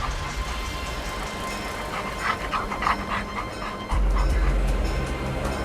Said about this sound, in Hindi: उन कटे हुए शरीर के टुकड़ों से बदबू आ रही थी और कुत्ते उन्हें खाने के लिए उनके इर्द गिर्द मंडरा रहे थे।